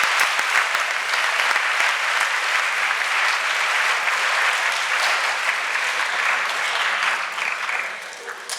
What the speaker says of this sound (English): Let's give our closing panelists one last round of applause